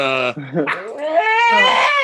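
A dog with kidney trouble whimpers and cries to be let outside, a close, drawn-out high-pitched whine that wavers and rises over about two seconds.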